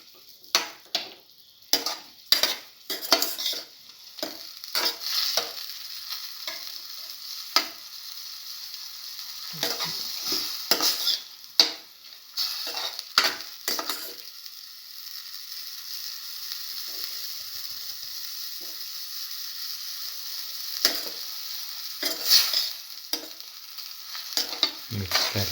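Cinnamon garlic mashed potatoes are stirred and mashed in a frying pan. A spatula scrapes and clacks in irregular bursts over a constant sizzle, close and clear, with no speech.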